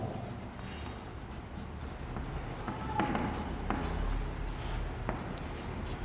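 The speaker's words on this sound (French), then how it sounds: "Je vais écrire en petit 2." Chalk or marker writing on a board during a French physics lesson, soft scratchy strokes at moderate level over quiet room noise, with a couple of brief taps near the middle; no speech.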